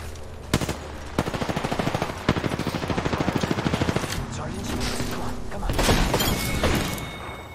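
Rapid automatic gunfire in Apex Legends, loud bursts of shots in quick rhythmic strings broken by short pauses, with a heavier blast near the end, while someone talks over it.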